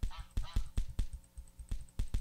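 A duck in the Minetest video game quacks about ten times in quick succession, each call a short, nasal honk at a fairly steady rhythm, moderately close and otherwise alone.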